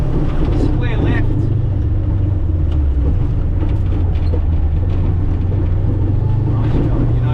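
A rally car drives hard on a gravel stage, its engine droning loud and close inside the cabin while a co-driver's voice talks over it.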